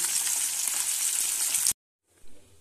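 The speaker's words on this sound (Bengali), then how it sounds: "মাছটা উল্টে দিয়েছি, ভালো করে ভেজে নিচ্ছি" Fish sizzles loudly in hot oil in a pan, a dense, close frying hiss that cuts off abruptly, then a short quieter burst of sizzle returns after a pause.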